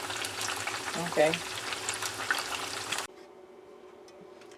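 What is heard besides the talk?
frying tofu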